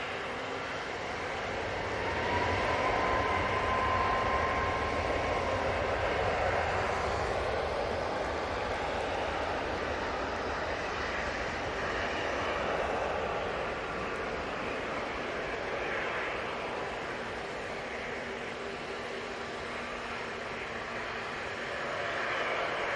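A Ryanair airliner takes off at Manchester Airport, a sustained roaring jet engine wash that swells and holds steadily, heard from a distance with no talking.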